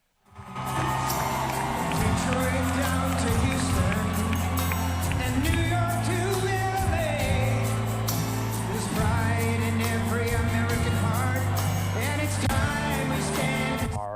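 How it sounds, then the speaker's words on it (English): A large rally crowd in Washington, D.C. cheers, whoops and roars continuously as Trump walks to the stage, with music playing underneath the sustained noise. "Let's listen into the crowd erupt as the president-elect makes his way to the stage"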